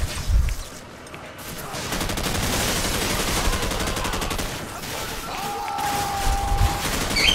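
Dense, continuous gunfire and a fusillade of shots in Call of Duty 4, sustained and loud with battle noise throughout, a brief tonal whine near the end.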